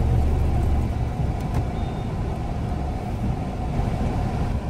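Dense road traffic jammed near a collapsed bridge on a one-lane road, a steady low rumble of idling cars, buses and trucks close by with a faint air-brake hiss, continuous and without talk.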